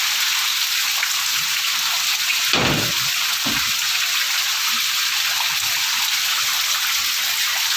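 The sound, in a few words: heavy rainstorm with wind, water flowing forcefully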